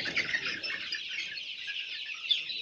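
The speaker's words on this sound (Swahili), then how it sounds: "kuku zinafanya maandamano" Poultry kept on a farm cluck and squawk together in a dense, continuous chorus, close and fairly loud, with no talking.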